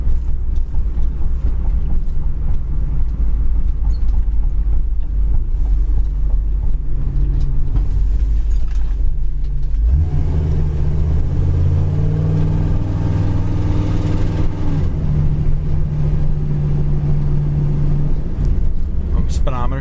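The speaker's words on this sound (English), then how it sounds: "This car really sounds good when you open it up" Inside a 1964 Chevrolet Impala SS with a 454 V8, the engine rumbles loudly while driving at about 35 mph. After a short lull it opens up into a deep rising growl, with someone talking over it.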